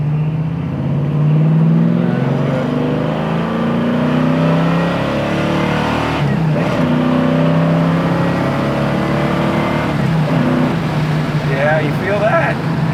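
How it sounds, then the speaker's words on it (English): A 1981 Camaro Z28 with a big engine pulls hard through its gears, the engine note climbing and dropping with each shift, loud and close from inside the car, with people talking over it. "just raking through those gears, just feeling that little pushback"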